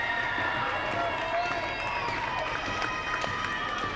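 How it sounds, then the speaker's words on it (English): Loud hockey arena crowd roaring and cheering without a break just after the Gamecocks score a game-tying rebound goal against Georgia Tech, a dense wash of voices filling the whole stretch. "I was letting the crowd under us kind of quiet down before I started speaking."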